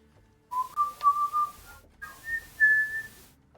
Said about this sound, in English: Whistling a little.